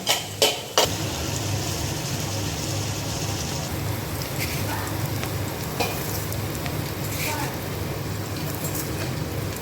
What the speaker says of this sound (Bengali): গাজর ক্যাপসিকাম বিনস মটরশুটি একসাথেই দিয়ে দিয়েছি ভাজা ভাজা হবে